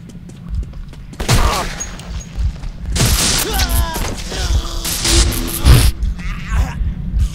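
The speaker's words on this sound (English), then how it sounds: "This gun also acts as a taser." In Metro 2033, a gun used as a taser discharges in harsh, crackling bursts. The bursts are loud and close, several in a row, with electric buzzing and impacts, and the player's voice is heard between them.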